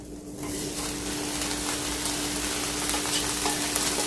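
Cooked rice tipped into eggs in a hot pan fries with a loud, dense, steady sizzle that holds unbroken for several seconds, close up, with a faint hum underneath and no voices.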